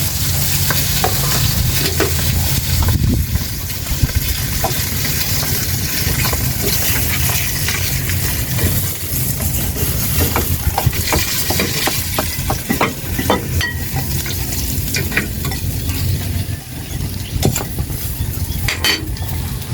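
Loud, steady sizzle of food frying in a pan, with intermittent clinks and scrapes of a utensil against the metal, continuous for the whole stretch.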